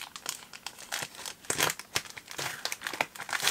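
Packing tape is peeled and torn off a cardboard parcel in quick crackling, crinkling bursts, with sharp irregular rips and rustles close by and no voices.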